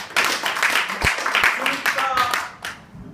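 An audience at a French debate-training session claps in scattered, uneven bursts, fairly close, with voices talking over and between the claps.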